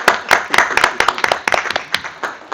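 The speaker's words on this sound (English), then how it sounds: "And get an applause" A small group at a city council meeting claps briefly, with uneven, sparse hand claps that ring out close and fairly loud for a couple of seconds.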